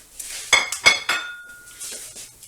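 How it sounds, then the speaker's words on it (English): Potatoes go back into a pan with chorizo for a breakfast burrito, making a few sharp metallic clinks and scrapes of a utensil against the pan, followed by a faint sizzle. "we're going to go ahead and reintroduce the potatoes. Get that in there."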